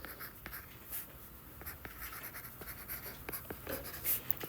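A pen writes on paper for a math problem, a faint, close scratching with short strokes and taps in an irregular rhythm, quiet and alone.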